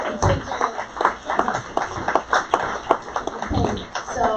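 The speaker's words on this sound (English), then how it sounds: "Let's give them another round of applause." A modest audience at a Jerome/Rohwer pilgrimage gathering in Chicago claps in a round of applause, individual claps clearly audible and fairly close, with some voices mixed in.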